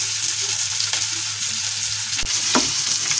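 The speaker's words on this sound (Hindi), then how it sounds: "साथ ही मैं अदरक मिर्ची में डाल दूंगी और इसे मैं प्याज को भी भून लूंगी।" Onion with ginger and chili fries in a kadai for restaurant-style kadai paneer, giving a steady, loud, close sizzle with occasional stirring scrapes and no talk.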